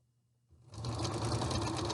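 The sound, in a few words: sewing machine stitching a 1/4 inch hem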